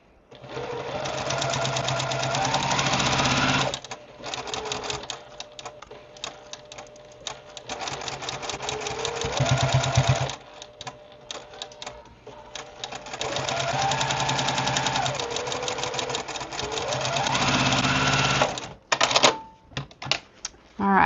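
A sewing machine stitching quilt pieces in long runs of rapid, close mechanical stitching with brief pauses between them, and a voice talking at times.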